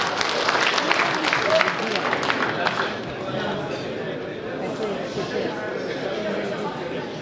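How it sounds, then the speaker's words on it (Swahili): Applause from a crowd at a memorial or funeral gathering in Kenya, a dense burst of clapping that is loud for the first few seconds and then settles into a steadier, softer patter with murmuring voices mixed in. "Wapi makofi Alfred."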